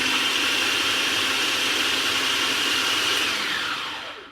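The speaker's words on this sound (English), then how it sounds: "we're just going to put this in the food processor and blend it up real good" A small food processor blending a seitan sausage mixture, with a loud, steady motor whir and hiss running continuously, then winding down and fading at the end, with no speech.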